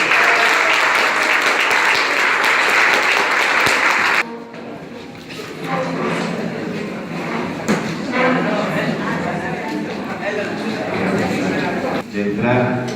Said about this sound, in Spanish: El aplauso a Jesús.